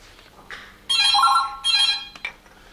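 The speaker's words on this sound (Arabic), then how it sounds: "ردي على التليفون" A telephone rings indoors with two loud electronic bursts in quick succession, near and clear, with no talking over it.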